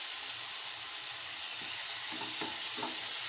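Tomato chutney cooking in a pan and being stirred, a steady broadband sizzle with soft scraping strokes toward the end, close and continuous with no voices.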